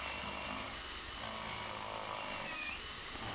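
A drill bit bores into pine or plywood in a woodworking shop, a steady, loud high-pitched whine and grinding that runs throughout without pause.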